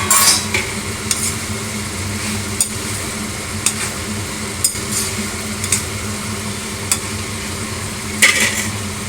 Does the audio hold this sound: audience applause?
no